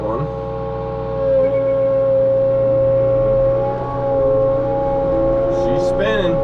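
An ASV VT 100 skid steer runs at steady high revs during land clearing, a loud droning engine with a strong whining tone that rises and dips slightly, and a faint voice near the end.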